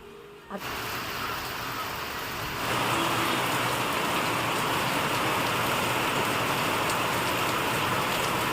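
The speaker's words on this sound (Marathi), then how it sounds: "एवढा जोरात पाऊस सुरू आहे" Heavy rain pours steadily, a dense broadband hiss that swells louder after a few seconds and continues without a break; a faint vehicle rumble sits underneath.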